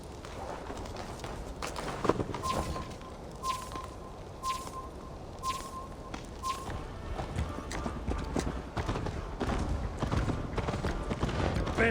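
A horse galloping in the video game Assassin's Creed Valhalla: continuous rapid clip-clop of hooves over a rumbling ground, steady and moderately loud, with faint tonal ticks from the game.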